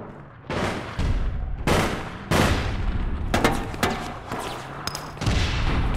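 Gunfire in the game APB Reloaded, loud bursts of automatic shooting broken by brief gaps, with several heavy volleys and sharp shots close by.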